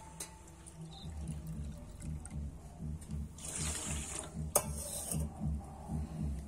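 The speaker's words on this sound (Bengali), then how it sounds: "দেখো আমি কিন্তু চিনিটা ভালো করে গলিয়ে নিয়েছি।" A spoon stirs sugar into water in a bowl, making a steady, rhythmic swirl of soft knocks and scrapes, with a brief watery splash partway through and no voices.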